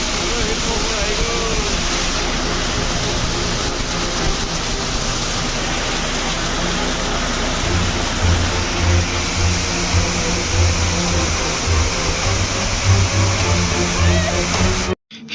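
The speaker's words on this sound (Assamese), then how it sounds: "আৰু কিন্তু মুষলধাৰ বৰষুণ দিব ধৰিলে।" A heavy downpour pounds an offshore oil rig: a dense, steady, close roar of rain lasting throughout, with a low rumble underneath in the second half, cut off abruptly at the end.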